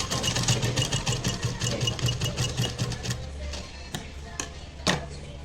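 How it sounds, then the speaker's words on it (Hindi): A sewing machine runs a fast, rhythmic burst of stitching while lock-stitching elastic on a baby frock, then stops and leaves a few faint clicks and handling sounds. "यहाँ पर लॉक सिलाई लगाएंगे।"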